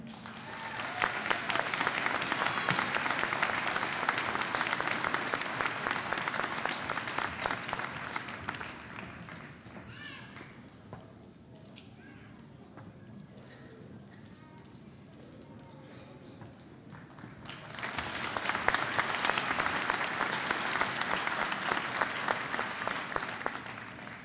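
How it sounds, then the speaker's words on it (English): A graduation audience gives a large indoor ovation, with sustained dense clapping that fades to scattered claps and murmuring in the middle. A second loud, full round of applause swells near the end. "giving one more round of applause to the outstanding faculty and staff members."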